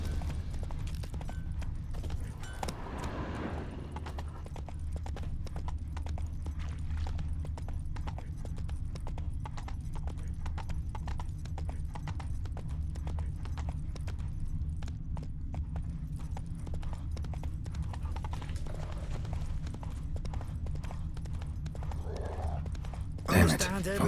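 Horse hooves clip-clop steadily in The Witcher 3, a continuous even rhythm of hoofbeats over ground that stays fairly close throughout with a low ambient bed beneath.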